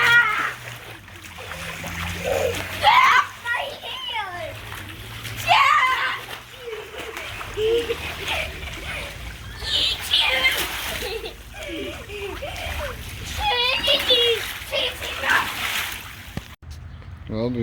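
Water splashes and sloshes as a 16 ft by 48 in Summer Waves above-ground pool is filled, a steady wet backdrop beneath frequent voices, including children talking nearby.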